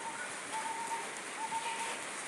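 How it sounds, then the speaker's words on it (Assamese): Rain falling in a steady, soft patter of drops during a sudden summer downpour, heard close and fairly quiet without pauses. "আহি গ'ল পূৰা বৰষুণ, টিপিক টিপিক টিপিক টিপিক পৰিছে"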